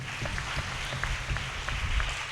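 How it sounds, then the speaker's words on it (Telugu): An audience at a gathering for a Telugu Christian talk by a father applauding, a dense patter of many hands clapping at a moderate distance, brief and steady without voices. "అందరూ కూడా చప్పట్లు కొట్టండి"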